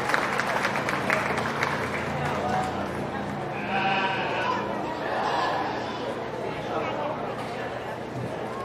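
A crowd at a county fair sheep show claps under loud chatter, with lambs bleating now and then and voices talking over the dense, steady noise of the show ring.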